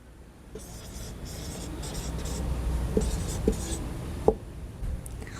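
Writing on a board during a Class 11 maths lesson on trigonometric functions: quiet, continuous scratchy strokes with a few sharper taps, heard alone without speech.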